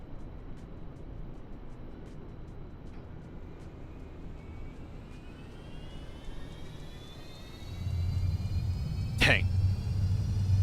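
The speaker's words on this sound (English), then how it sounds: "let's get the APU on" An auxiliary power unit starts on a Fenix A319 in a flight simulator: a rising turbine whine gradually climbs in pitch, then a deeper steady roar swells in partway through and holds alongside it.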